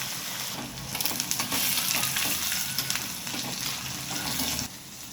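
Mustard seeds, cumin, curry leaves and a large chopped onion hitting hot oil for a Kathiyawadi dahi tikhari, a loud, dense sizzle that surges as ingredients drop in and holds steady for several seconds before easing off.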